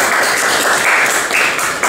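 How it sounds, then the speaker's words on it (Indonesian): Classroom applause, a dense continuous patter of many hands clapping together at close range for just under two seconds. "Tepuk tangan dulu dong"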